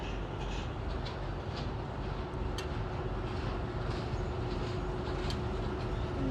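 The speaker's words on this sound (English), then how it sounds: "you can hear all the cars going across this one too" Cars crossing the Williamsburg Bridge, heard from a ferry on the river, a faint, steady distant roar of traffic blended with broadband water and engine wash, no talk.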